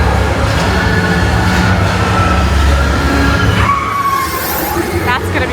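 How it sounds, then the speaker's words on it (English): Tomorrowland ride train at Magic Kingdom rolling steadily along its track with a low rumble and faint wheel squeal, then slowing, while announcements and passenger talk run over it. "Don't worry, your express train keeps on rolling through the future."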